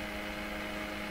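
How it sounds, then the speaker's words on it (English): A sweep generator signal passing through the IF stage of a Crosley 43FB farm radio comes out as a steady, dense buzzing hum with faint tonal lines, unchanging for its short length and heard alone. "the sound you're hearing is the sound of the sweep passing through the IF"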